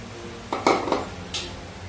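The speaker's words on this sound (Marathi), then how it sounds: "आणि चांगला तेलामध्ये परतवून घ्यायचा आहे मसाला" A spoon scrapes and clinks against a pan three or four times in quick succession while masala is stirred and sautéed in oil for cornflakes chivda, sharp metallic knocks over a quiet room.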